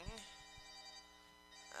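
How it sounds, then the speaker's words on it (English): A telephone rings in repeated electronic tones across the clip, moderately loud and steady, with brief noises at the start and end. "Someone is calling."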